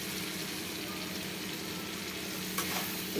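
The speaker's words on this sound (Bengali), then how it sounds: "তো মশলাটা কষিয়ে নিচ্ছি" A spice paste of cumin, ginger paste and tomato sautés in hot oil in a pan, giving a steady, close frying sizzle with a faint stir near the end.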